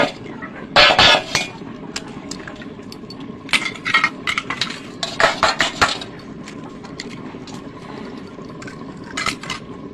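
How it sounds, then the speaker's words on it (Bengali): Two eggs cracked into a bowl for a vanilla sponge cake, heard as several sharp clicks and taps of shell against the rim, with wet splashing and clinking spread across the first six seconds, close and fairly loud. "আমি ডিম দুটো ফাটিয়ে নেব।"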